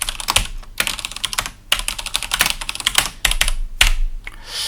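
Fast, steady typing on a computer keyboard while coding a solution to a programming problem, with dense clattering keystrokes in quick runs and brief gaps between bursts, close and clear.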